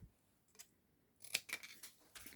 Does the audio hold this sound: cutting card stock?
yes